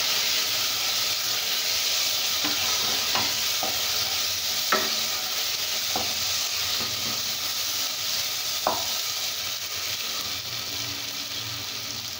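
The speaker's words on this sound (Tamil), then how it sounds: "கரம் மசாலா தூள், மஞ்சள் தூள் சேர்த்துக்கலாம். ஒரு நிமிஷம் வதக்கிக்கலாம்" Garam masala and turmeric powder sautéing in a pan for a mushroom kurma, a steady sizzle and hiss with a handful of spaced spoon scrapes and taps against the pan, close and even.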